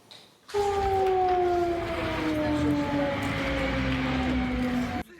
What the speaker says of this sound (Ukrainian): Сирена лунає на вулицях щойно обстріляного міста.